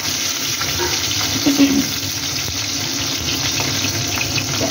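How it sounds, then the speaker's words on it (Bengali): A steady, close hiss of sliced bitter gourd frying in hot oil in a pan, continuous with a faint crackle throughout and no voices. "এবার আমি উচ্ছেটা ভাজছি"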